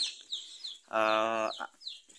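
Chickens cluck and squawk nearby as young free-range chicks are kept in a brooder box, with one long loud squawk in the middle and short chirps and clucks scattered around it.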